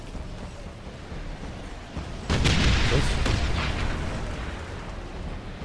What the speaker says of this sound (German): Hier explodiert alles.